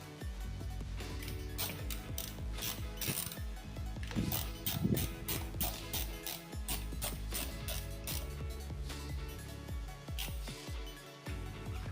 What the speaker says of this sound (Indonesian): kencangkan dulu pivotnya ya.